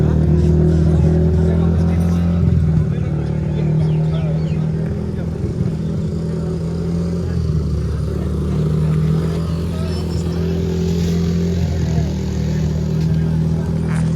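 Motocross bikes are being set up at an international-level motocross event in Shillong. Their engines drone and rev loudly and continuously at close range, with a slight rise and fall in pitch, while people talk underneath.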